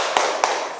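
Two sharp, close hand claps ring out evenly spaced at a church children's Christmas program, each a crisp single smack over a faint room hum.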